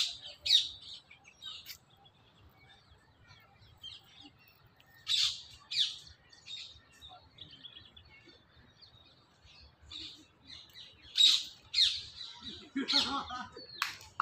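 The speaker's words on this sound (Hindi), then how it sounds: "यहाँ पे आपको चिड़ियों की चहचहाहट सुनाई देगी" Small birds chirp and tweet in scattered bursts, some near and some farther off, throughout the quiet gardens of Sunder Nursery in Delhi, with soft ambient background between calls.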